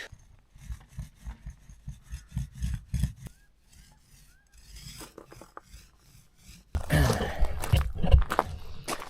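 A brush repeatedly scrubs SBR Bond sealant onto plywood in short rhythmic strokes, close up, pausing briefly before a louder, rougher stretch of brushing at the end.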